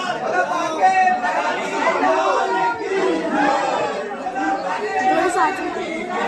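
A huge crowd waits packed along a lane, and their dense overlapping chatter forms a continuous loud murmur of many voices throughout, close and all around.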